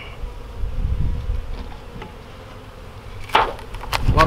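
A dense, steady buzzing of honey bees hums close by from an open hive, with a few sharp knocks and scrapes near the end.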